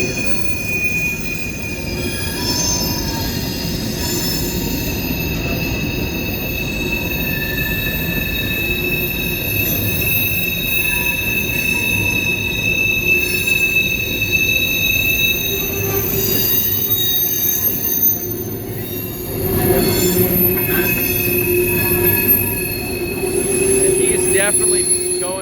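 An empty CSX coal train creeps very slowly past, its wheels squealing in sustained high-pitched tones over a steady low rumble of rolling cars that swells near the end.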